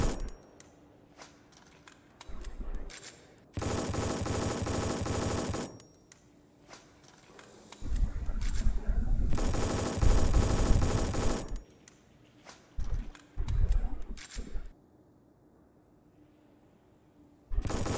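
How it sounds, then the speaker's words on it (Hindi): Automatic gunfire in the REC.O.R.D shooting game, several sustained loud bursts of rapid shots separated by quieter gaps with faint background game sounds. "देखिए हम यहाँ पर शूट भी कर रहे हैं"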